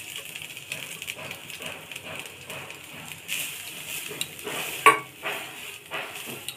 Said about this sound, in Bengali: নারকেলটা আমি একটু ভাজা ভাজা করে নিয়ে